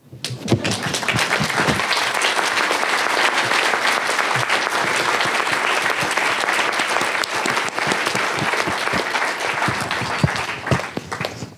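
Applause from the audience at a graduate program's tenth anniversary ceremony, full and sustained clapping from a large crowd, loud and even, with a few sharper claps standing out near the end.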